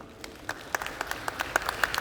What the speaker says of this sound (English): So students, I want you to give your parents a great big round of applause.